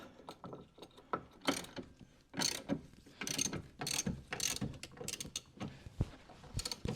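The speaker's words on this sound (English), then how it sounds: "we're going to tighten this one back into place." Tightening a nut and washer back onto a bracket while installing a boat's sonar mount, giving a run of close, quick ratcheting clicks in short bursts with brief pauses between, with no talk.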